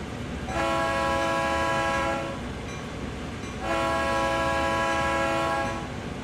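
A GP38 diesel locomotive horn in Train Sim World 2 on the Horseshoe Curve route sounds two loud, sustained chord blasts of about two to three seconds each. A short gap separates them, with train rumble underneath.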